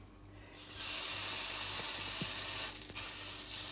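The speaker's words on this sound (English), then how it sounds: "Need to give it a sear, nothing more, so high heat, just give it a sear." Tuna searing in a hot pan over high heat, a loud, steady broadband hiss that starts suddenly, keeps up, dips briefly near the end and then comes back, with no voices.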